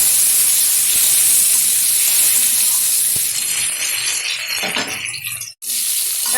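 Raw mango pieces fry in hot oil for a sour dal, giving a steady broadband hiss and sizzle that is briefly stirred, then cut by a sharp, near-silent gap before the sizzle resumes.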